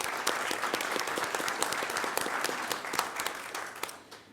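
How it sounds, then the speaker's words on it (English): Brief round of applause for commended students at a school board meeting, a modest audience clapping with distinct individual claps audible, fading out after about four seconds. "So let's give them a quick round of applause."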